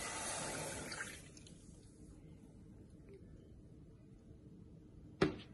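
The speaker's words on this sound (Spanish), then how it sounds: "Vamos a poner una taza y un cuarto de leche." Milk pours into a cup for whole-wheat bread dough with a faint liquid splash and trickle at first, then a quiet stretch ending in a short clink.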